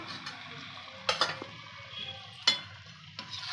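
Chicken gravy cooks in a pan while a spoon stirs it, giving soft scraping and a few sharp clinks of metal against the pan over a faint sizzle. Quiet and close, with no talking.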